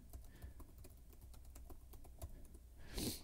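Rapid, uneven keystrokes on a computer keyboard during a late-night music and mixing session, clicking steadily at close range over a low background hum, with a louder burst near the end.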